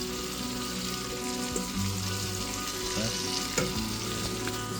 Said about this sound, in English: So we're going to dump all of the cabbage in.